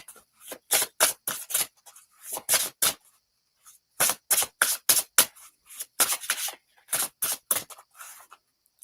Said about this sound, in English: Should I shuffle again?